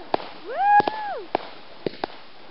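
Backyard fireworks going off in sharp broadband bangs, about six spaced over a few seconds, with a rising then falling whistling tone from a launching shell between them; a short whoop of voice sits near the start.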